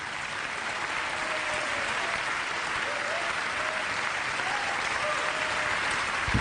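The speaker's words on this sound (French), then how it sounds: "je vous demande d'applaudir Fatoumata Sidibé et Djenaba Diao" Sustained applause from an audience at an e-Market Africa event in the French Senate, steady dense clapping with crowd noise throughout, no voices rising above it.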